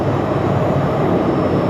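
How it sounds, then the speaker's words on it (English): A British Airways Speedbird airliner touches down at Phoenix Sky Harbor, heard as a loud, continuous broadband roar of engines and rushing air with no voices over it. "Beautiful touchdown by Speedbird."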